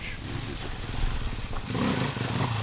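A KTM enduro motorcycle engine runs with a rough, buzzing drone that swells slightly as it revs, heard at moderate distance over steady outdoor noise.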